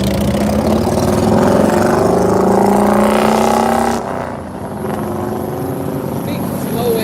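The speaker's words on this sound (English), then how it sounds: "Big slow ass motorcycle." A big, slow motorcycle rumbles past close by, its engine droning loud and steady for about four seconds before dropping off into a quieter road hum and background traffic.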